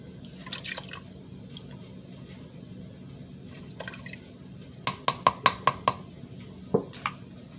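Heavy cream and milk poured into a pot for shrimp Alfredo, heard as quiet liquid sounds and handling noise, then a quick close series of sharp drips and glugs near the end.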